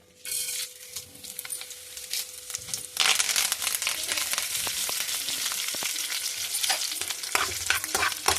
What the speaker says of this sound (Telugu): తాలింపు వేసి ఇది నూనెలో వేగుతుంటే